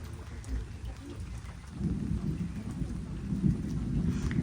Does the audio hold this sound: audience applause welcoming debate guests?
no